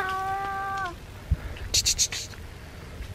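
Outdoors, one of several cats squaring up to fight lets out a steady, tense meow lasting about a second. A person then speaks softly and hisses a short 'pst' nearby.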